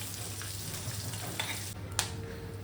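Curry leaves are stirred in a hot frying pan, giving a steady close sizzle with a few scraping stir sounds and a brief sharp crackle near the end.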